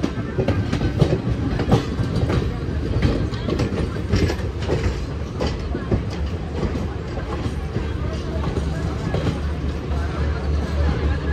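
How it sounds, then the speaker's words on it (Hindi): The Garib Rath Express passes close by, a loud continuous rumble with rhythmic clickety-clack of wheels over rail joints lasting throughout, while voices murmur in the background. "दिल्ली सराय रोहिला से बांद्रा टर्मिनल के बीच में चलने वाली गरीब रथ एक्सप्रेस पास कर रही है"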